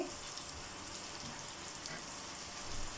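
Boneless chicken fries gently in a pan over low heat, giving a soft, constant sizzle with faint crackles and no talking.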